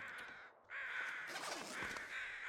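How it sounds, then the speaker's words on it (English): A crow caws twice in The Long Dark, a first harsh call cutting off briefly before a longer, rasping caw trails into a third, heard fairly distinctly over quiet ambience. "I hear crows."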